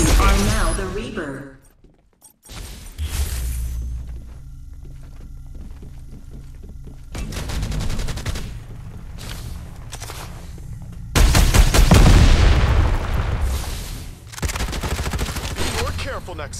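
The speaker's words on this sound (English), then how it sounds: "I'm taking fire!" Bursts of rapid automatic gunfire in Farlight 84 gameplay, loud close volleys separated by quieter stretches, with a heavy sustained barrage near the end and game voice lines over parts of it.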